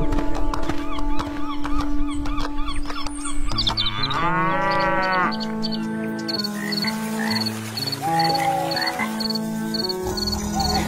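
A water buffalo moos in a long, low bellow alongside a music score with bright tones and a short rising whistle-like sweep, all loud and up close.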